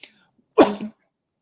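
A single sharp sneeze bursts out close and loud after a brief pause, with a short breathy tail, in a quiet room.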